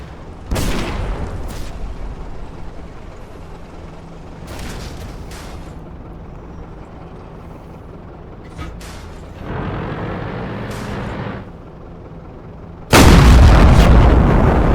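Tank cannon shots in World of Tanks: several sharp, booming blasts spaced seconds apart, with engine and track rumble in between and a very loud, broadband final shot.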